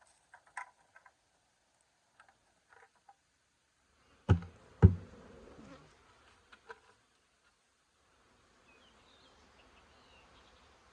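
Bees buzz faintly during a hive removal, joined by a couple of sharp knocks near the middle and a soft, diffuse hum toward the end.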